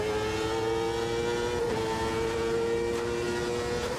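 A 2.66-litre turbocharged V8 race car in the Automobilista 2 racing game holds a steady, loud engine note at high revs, a continuous drone with a brief shift-like dip midway.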